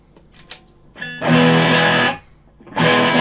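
Distorted electric guitar driven through a Fulltone OCD overdrive pedal, loud crunchy chords in two sustained bursts with a short quiet gap and faint picking before them, no talk.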